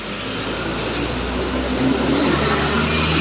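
A bus on a morning road in Aceh near a railway line, its engine and tyres roaring in a steady, broad rush as it overtakes a private car close by.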